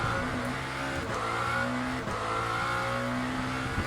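A Lamborghini SC63 hypercar in the racing game Le Mans Ultimate accelerates hard out of a corner at Sebring, a loud, steady, rising engine roar with brief gear-change dips, up close throughout.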